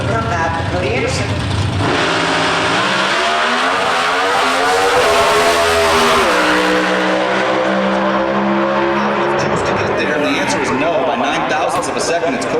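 Pro Stock drag race cars launch at the NHRA Brainerd Nationals in Brainerd, Minnesota, engines roaring loudly with rising harmonic revs and gear changes, while a commentator talks continuously over the noise.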